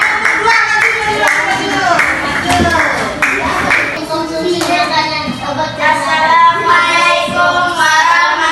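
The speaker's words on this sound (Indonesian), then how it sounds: "tepuk tangan untuk kelompok 1" Fifth-grade pupils in an Indonesian primary classroom clap for a group, brisk rhythmic handclaps filling the room while children's voices and chatter run over them throughout.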